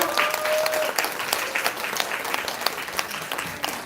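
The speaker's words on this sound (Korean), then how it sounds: "감사 박수 부탁드립니다" A crowd applauds steadily throughout at a reading night event, dense clapping filling the room at an even level with no voices on top.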